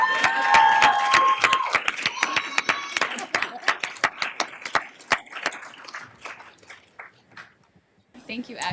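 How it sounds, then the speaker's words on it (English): Audience at a Black religion, spirituality and culture conference discussion applauds, a dense patter of claps that thins out and fades toward the end, with voices mixed in near the start. "let's give it a round of applause"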